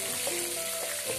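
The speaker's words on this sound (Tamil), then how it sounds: "கடுகு நல்லா பொரியணும். இந்த பொரிந்த சவுண்ட் ஒரே வரைக்கும் வெயிட் பண்ணிவிட்டு தாளிக்கிற உளுந்து ஆட் பண்ணுங்கள்." Mustard seeds pop and sizzle in hot oil for a South Indian lemon rice tempering, a steady close frying hiss with a few brief crackles and no talk.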